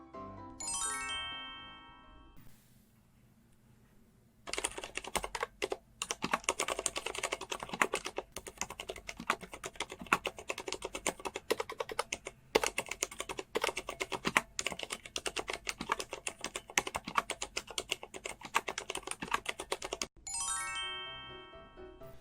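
Rapid, muted keystrokes clatter steadily on a quiet Leopold FC750R PD mechanical keyboard with low-noise silent red switches, bracketed by short chiming tones at the beginning and end.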